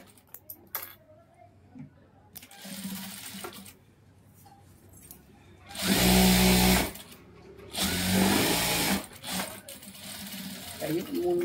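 A sewing machine stitching a blouse, running in two loud bursts of rapid stitching separated by a short pause, with quieter handling sounds and someone speaking Tamil between runs.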